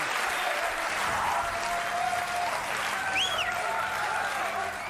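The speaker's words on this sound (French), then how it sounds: "Un grand applaudissement pour Ariel Wiesman." A TV studio audience on a French variety show applauds, a thick, continuous roar of clapping that stays loud and even, with a few faint whistles rising through it.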